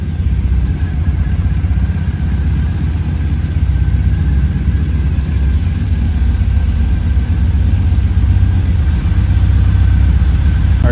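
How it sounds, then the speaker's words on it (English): A Triumph motorcycle engine idles steadily while warming up, a constant low rumble running loud and close with no pauses for the full stretch. "Now I can put the seat cover on while we're warming up the engine."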